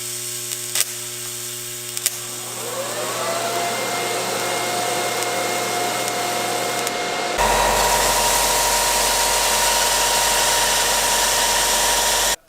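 A TIG welding torch works on a turbo part for a turbocharged LS-swapped Mustang, giving a steady electrical buzzing hiss that shifts to a louder, harsher hum partway through, continuous and close with no talking.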